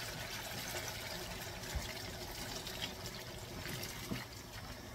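Hot water from a kettle pours into a pot of beef and potato curry, a soft continuous trickling wash, faint and close with no talk.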